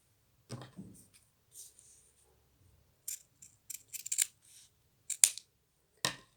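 Scissors snip through grosgrain ribbon in a series of short, crisp cuts, some single and some in quick clusters, close and quiet with no talking.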